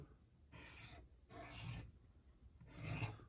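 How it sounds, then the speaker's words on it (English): Soft scratchy strokes of a pen or pencil on paper, three short bursts of rubbing separated by brief pauses, close and quiet. "it's much more fun to draw a picture of some sort"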